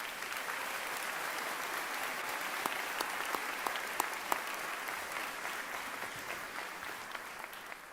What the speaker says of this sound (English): under the direction of Mrs. Pam Williamson, please join me in a round of applause for all these people so instrumental to tonight